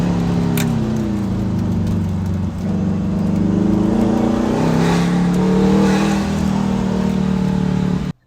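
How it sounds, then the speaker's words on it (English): A Factory Five 818 engine drones steadily on a cone-lined track, its pitch sliding down and back up as the driver lifts off the gas through an S-turn, loud and close throughout before cutting off abruptly. "You can hear me letting off the gas."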